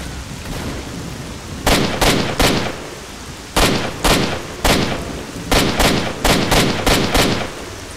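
Gunfire in S.T.A.L.K.E.R. Shadow of Chernobyl: loud, sharp shots fired singly and in quick pairs and triplets over a steady background hiss, with short pauses between bursts.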